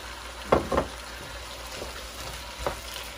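Spicy shrimp fried rice with soy sauce and fish sauce sizzles steadily in a hot pan, a couple of quick stirring scrapes near the start and another later, close and without talking.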